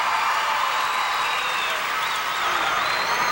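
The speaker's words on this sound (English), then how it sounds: "Listen to the crowd." A gymnastics arena crowd cheering and applauding at a 1996 competition, a broad, continuous roar of distant clapping and cheers with a commentator's voice faintly over it.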